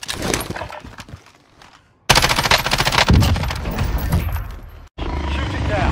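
Automatic gunfire in Call of Duty Warzone, loud bursts of rapid shots that stop for a moment and then resume densely, with a voice talking under the shooting.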